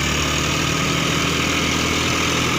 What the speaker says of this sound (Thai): เสียงมวนครับอ่ารถ 3สูบเทอร์โบเสียงมวนครับผม